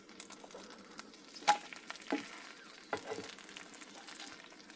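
Asparagus frying in a pan at a hot tent camp, with a steady soft sizzle and several scraping, clattering bursts as the pieces are turned over together, close by and with no talking.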